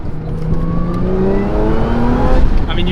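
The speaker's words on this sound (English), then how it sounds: "when you go like wide open throttle, it's mostly just the supercharger going nuts" Dodge Hellcat with its supercharger whining at wide open throttle, a loud steady engine roar with rising tonal whine lines throughout, close and continuous with no talk.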